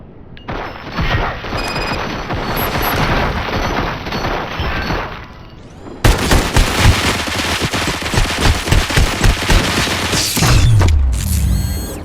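Gunfire in the RoboCop: Rogue City video game crackles as dense, sustained automatic bursts, loud and close. A sudden cut brings a fresh volley of rhythmic shots and crashing impacts, with mechanical whirring at the end.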